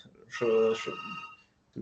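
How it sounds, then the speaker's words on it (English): An office telephone rings in the background during a lecture, giving one sustained electronic trill while someone speaks over and around it. "Sorry, my telephone in the office is ringing."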